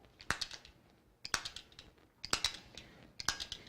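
Soft, quiet tapping in pairs at a slow, steady pace, mimicking a calm heartbeat; no voices.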